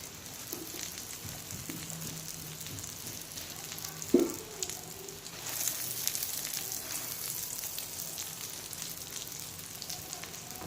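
Egg cheese roll cooking in a pan on very low heat, a soft, steady sizzle and gentle crackle of frying with a brief utensil clink in the middle, close and quiet with no talking.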